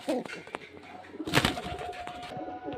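Pigeons kept for sale at Beldanga Uttarpara coo in short, soft, throaty phrases close by, with a few brief calls scattered over a quiet background.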